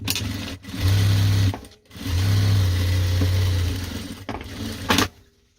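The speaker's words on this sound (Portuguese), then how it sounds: "E passo outra costura aqui." A domestic sewing machine stitching a seam on a fabric case, loud and close, running in two long bursts separated by brief pauses, then a short final run with a clunk, no talking.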